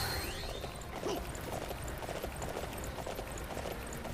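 Horse hooves clip-clopping at a gallop in the video game Dynasty Warriors 9, a steady rapid beat under a dense, loud wash of battle noise, with no speech.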